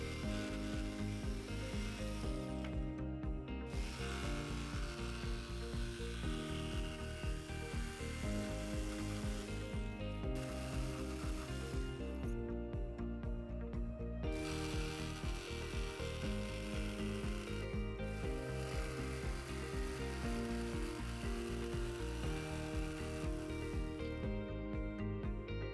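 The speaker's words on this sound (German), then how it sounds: "Mit der Stichsäge schneide ich mir den Griff nun aus." A jigsaw cuts a handle opening out of a wooden board, a loud continuous buzzing rasp running for nearly half a minute with brief dips as the blade slows or shifts, no voices.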